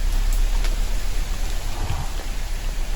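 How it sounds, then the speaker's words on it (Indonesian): Heavy rain pouring onto a tent at a night campsite, a dense continuous hiss with occasional louder drops, close and steady, no voices. "Sangat hujan ini"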